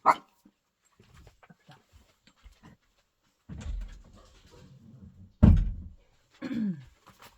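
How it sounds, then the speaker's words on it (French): A female dog at a closed door gives a few sharp barks and whimpering whines, separated by quiet gaps and faint scratching or shuffling, heard fairly close indoors without speech. "je vais ouvrir la porte à ma chienne, à moins qu'elle n'aboie plus"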